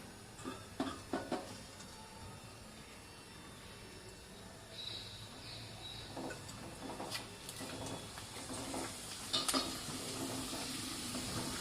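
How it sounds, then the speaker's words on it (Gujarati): Potato wafers frying in hot oil over a low flame, giving a soft steady sizzle with occasional clinks and stirring scrapes of a utensil in the pan, fairly quiet and without talk. "હવે આપણે આ જે બટાકાની વેફર્સ છે એને આપણે આ રીતે ફ્રાય કરી લઈશું તેલમાં"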